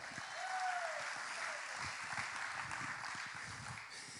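Many hands in a church congregation clap together in a sustained burst of applause, with a few voices faintly audible underneath.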